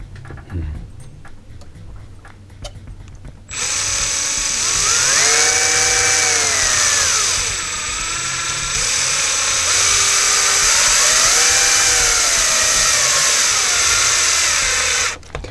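A power drill drives a screw into the roll cage of an Axial EXO RC car, starting abruptly with a loud, close whine that rises and falls in pitch twice as the screw seats.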